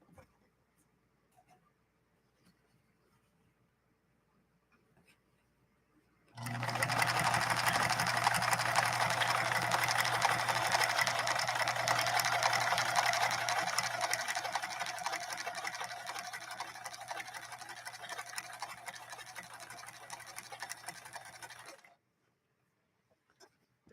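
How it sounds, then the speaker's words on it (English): A Japanese Kenmore sewing machine runs an ornamental stitch, a steady rapid mechanical whir and patter starting abruptly after a quiet lead-in and stopping cleanly after about fifteen seconds, close and alone. "I'll try to bring you down to the action so you can watch this Kenmore execute this stitch."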